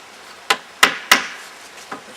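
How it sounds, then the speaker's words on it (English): Hammer blows drive number 6 decking nails with twisted shanks into a roof frame propped against a bench: three sharp close strikes in quick succession, then a pause and a fainter fourth tap. "Kind of hard to nail like this because I have to lean it against the bench."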